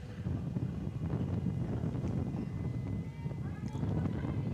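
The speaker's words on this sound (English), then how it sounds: "Very strong gust picking it up on the mics there" Strong wind gusts buffet outdoor microphones at a women's college softball game, a steady low rumbling roar under a commentator's voice.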